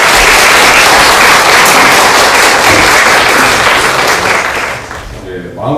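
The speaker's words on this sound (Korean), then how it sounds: "박수로 환영해 주십시오." Loud, dense audience applause filling a church hall as a missionary speaker is welcomed, a continuous roar of clapping that fades toward the end as a voice begins.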